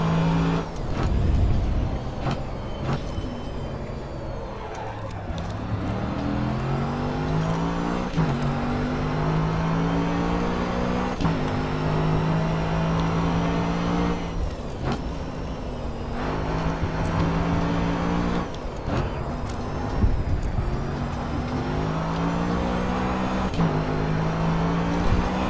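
A Mercedes AMG GT3 race car engine in GRID Autosport at Autodromo do Algarve, a loud continuous roar with the pitch climbing and dropping through repeated gear changes, sustained throughout.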